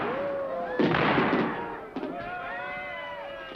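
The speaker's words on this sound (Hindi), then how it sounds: "फायरवर्क्स शुरू हो गए।" Fireworks bursting during a festive crowd scene in a Shinchan cartoon, a few crackling booms and fizzing sparkles rolling over a steady hum, with voices speaking between them.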